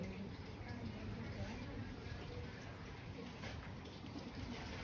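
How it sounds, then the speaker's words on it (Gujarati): Soft, low coos of a white pigeon sound faintly in the background while people talk nearby. "જલ્દી ઉતર જા ધોળા કબૂતર"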